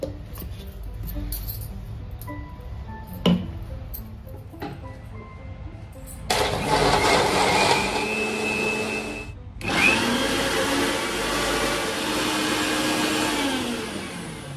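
An electric mixer whips cream in a home kitchen. After a few clinks it starts up midway, then runs as a loud, steady whir with a brief stop and restart.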